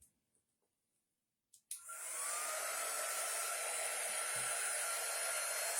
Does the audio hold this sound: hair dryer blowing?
yes